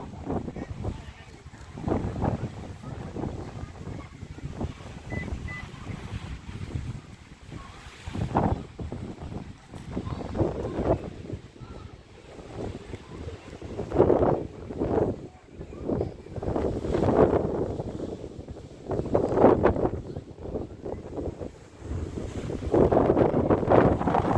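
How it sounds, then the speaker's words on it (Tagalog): Strong coastal wind roars and buffets a phone microphone in rough, uneven gusts at the Kiama Blowhole, New South Wales, Australia, rumbling heavily throughout with no clear voices. "Napapayad yung telepono ko sa lakas ng hangin, no?"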